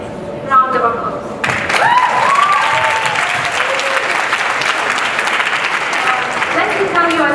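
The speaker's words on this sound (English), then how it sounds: "Round of applause" A graduation ceremony crowd breaks into loud, sustained applause after a brief spoken line, many hands clapping densely in a large hall, with a voice faintly audible under the clapping at times.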